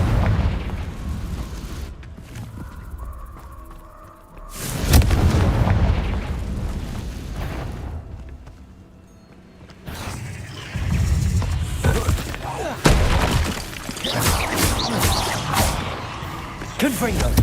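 Confringo blasting spell explosions in Hogwarts Legacy go off as repeated booming bursts and crackling impacts, loud and close, separated by short lulls, with a voice speaking between the blasts.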